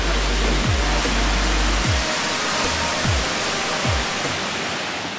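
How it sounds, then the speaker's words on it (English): Buttermilk Falls waterfall roars as a steady, loud broadband rush of falling water that fills the whole clip, with a few low thumps but no voices. "We are at Buttermilk Falls."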